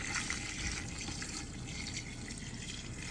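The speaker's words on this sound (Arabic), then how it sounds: "يلا الحين نضيف الماء، شفتوا؟" Water pours steadily into a cooking pot holding potatoes for a squab dish, a continuous close splashing rush with no talking.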